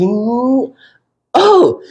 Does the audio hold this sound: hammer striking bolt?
no